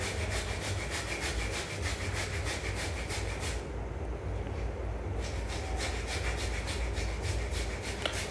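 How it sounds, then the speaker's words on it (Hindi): A steady, close rubbing and scraping comes from work on the air filter of a Hero Splendor Plus motorcycle. The sound has a fast rasping rhythm and a brief softer pause midway through. "अभी फिल्टर खुल रहा, तो यहाँ फिल्टर खुलेगा"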